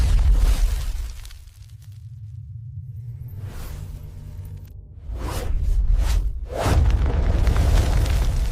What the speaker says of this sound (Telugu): పేలుడు దిశ చూస్తే రుద్ర,